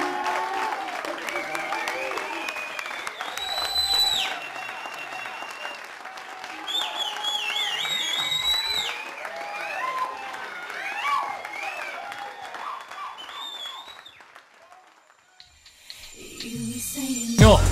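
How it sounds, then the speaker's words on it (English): Applause and cheering for Destiny's Child, with crowd noise and excited high voices rising and falling throughout before fading near the end into a sudden burst of sound. "give a big round of applause for Destiny's Child"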